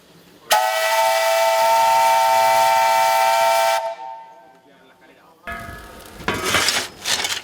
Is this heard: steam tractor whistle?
yes